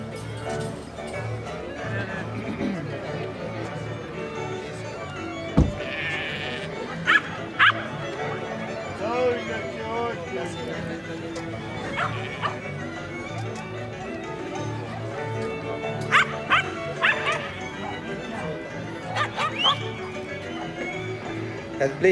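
A small, high-spirited Sinka dog barks in short bursts at a competition venue, sharp yaps scattered over steady crowd and arena noise with some background voices.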